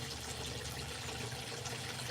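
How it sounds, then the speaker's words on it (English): Steady running water flows without pause, a continuous broadband rush at moderate level with no voices over it. "The sound of water helps."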